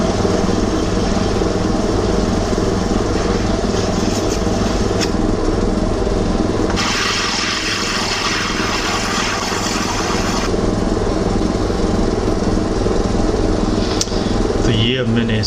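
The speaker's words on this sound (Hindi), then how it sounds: "अब हम इसकी जो बैक साइड है पॉलिश करेंगे और फिर ये जेमस्टोन रेडी हो जाएगा" Lapis lazuli gemstone having its back side polished on a motorized lapidary machine, a steady whirring motor drone with grinding contact noise rising and falling, continuous and close.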